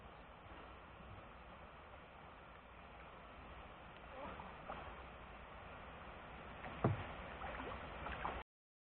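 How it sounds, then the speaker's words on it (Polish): A kayak being paddled under the road bridge at Kazanów on the Iłżanka river, with a steady wash of water and rushing noise, soft paddle splashes, and a sharper knock near the end. "no a teraz przepływam kajakiem pod nim"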